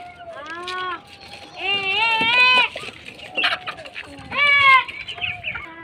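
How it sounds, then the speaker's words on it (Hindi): Chickens, a rooster and hens with chicks, clucking and squawking close by as they are let out, with repeated rising and falling calls in several loud bursts and quieter clucks between them. "मुर्गा मुर्गी भी बाहर आने के लिए बेताब हो जा रहे हैं"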